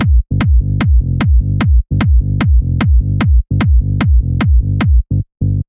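A deep, rumbling sub bass line in a groovy trance track grooves under a steady, punchy kick drum with sharp clicky attacks, loud and continuous.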